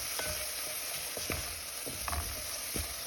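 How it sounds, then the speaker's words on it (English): Onions frying in oil over medium heat, a steady sizzle with occasional soft stirring clicks and pops, close and continuous with no talk. "So here are the onions cooking."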